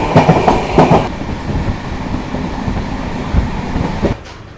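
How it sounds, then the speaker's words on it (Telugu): Sabari Express train passing close by at Katpadi Junction, a loud steady rumble of rail cars with rhythmic wheel clatter, sudden louder bursts in the first second, then the roar cutting off abruptly near the end. "Sabari Express crossing."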